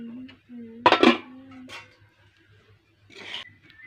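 A metal lid comes off a covered pot of cooking semai with one sharp, close clank, followed by fainter clinks and rattles in an otherwise quiet kitchen.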